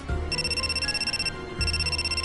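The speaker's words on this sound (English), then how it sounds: "Just then, someone else's cell phone starts ringing shrilly." A cell phone in the video game Death Mark rings shrilly, two sustained electronic ring bursts with a brief gap between them, loud and alone.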